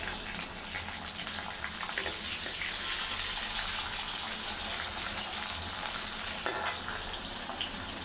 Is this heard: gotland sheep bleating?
no